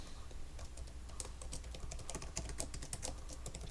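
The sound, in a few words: typing a password on a computer keyboard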